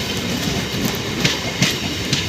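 An empty passenger train bound for Namkhana rolls along close by as it leaves the station, its wheels clacking in a regular rhythm over the rail joints beneath a steady rumble.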